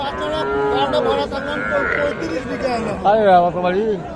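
Young bulls and heifer calves lowing at a busy rural cattle market, several drawn-out moos rising over someone talking and crowd chatter, one loud close call near the end.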